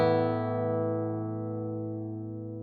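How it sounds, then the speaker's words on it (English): Handmade double top acoustic guitar with a single strummed chord ringing out, rich in overtones and decaying slowly with long sustain, close and clear. "it's the guitar number 39, a double top guitar, and let's see how it sounds."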